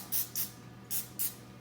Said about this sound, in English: Just spray the top with a little bit of this olive oil spray here too